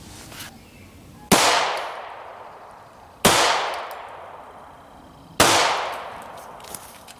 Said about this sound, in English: first off, 3 shots with the PX4 Compact